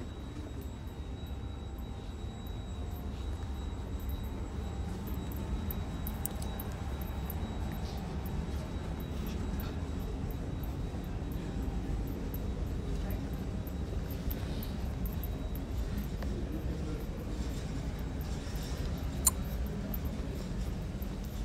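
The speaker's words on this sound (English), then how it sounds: "Now I'm sitting in the airplane." A steady low roar fills an airplane cabin, a broad constant drone with faint clicks and rustles around it, close and unbroken throughout.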